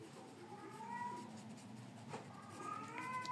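A cat meows indoors, a few drawn-out, wavering tonal cries close by over faint room noise.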